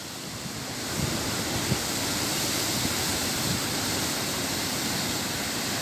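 Large storm-swell ocean waves crash onto rocks at Garopaba in a south wind, a loud, continuous broadband roar of surf with heavier surges, and no one speaking.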